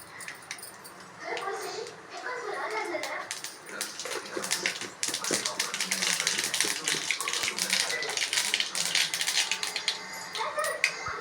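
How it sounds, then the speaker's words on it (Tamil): Mustard seeds splutter in hot oil in a kadai, building into dense rapid crackling and popping that runs on steadily, with a voice talking over the start. "இப்போ எண்ணெய் ஊற்றுறேன் கடுகு போடுறேன்"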